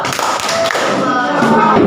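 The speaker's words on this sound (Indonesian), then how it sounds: "Tepuk jempol." Primary school pupils in a classroom perform a rhythmic thumb-clap cheer, giving a quick run of close taps and soft thuds with voices mixed in.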